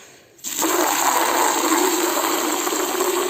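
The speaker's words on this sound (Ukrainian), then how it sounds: "а я зараз наберу водички відро" Water gushes steadily from a tap into a bucket after a brief quiet start, a loud continuous splashing rush that holds to the end.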